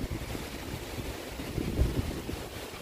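Steady wind blowing across the microphone in Dolores, Quezon, near Mount Banahaw, a low rushing roar with a few stronger gusts and no voices.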